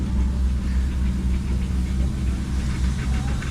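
An antique Advance Rumely steam engine with heavy treaded front tires runs at a threshermen's show of old engines and tractors, giving a steady low mechanical rumble and chugging throughout, with no talk.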